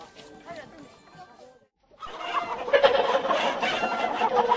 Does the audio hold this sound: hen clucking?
yes